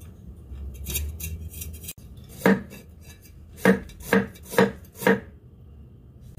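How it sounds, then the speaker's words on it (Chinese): A knife chopping ginger on a board, with five crisp, close knocks in an uneven rhythm after a quiet stretch of soft scraping. "先切丝，然之后将佢切成粒"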